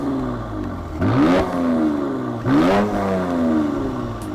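Twin-turbo 3-liter V6 of a 2019 Mercedes-AMG C 43 Coupe revving twice, each blip rising sharply in pitch then falling back to a steady throaty idle, loud and close with no voices.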